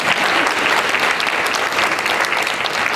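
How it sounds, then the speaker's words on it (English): A hotel audience at a hospitality training graduation claps loudly and steadily. Dense, close applause fills the whole moment without a break. "Clap her for me."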